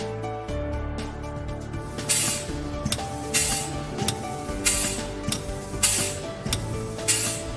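Compressed air hisses in repeated short bursts through a Techno Q22HD pneumatic valve as it opens and closes, roughly every second, each blast loud and close over a steady mechanical background hum.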